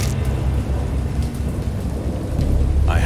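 Thunderstorm in the Dagon video game: steady, loud rain hiss over deep rolling thunder rumble that swells throughout, with no voices.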